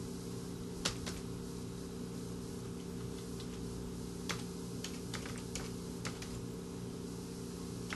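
Faint, sparse clicks of computer keys come in short bursts as a URL is typed, heard over a constant electrical hum in a quiet room.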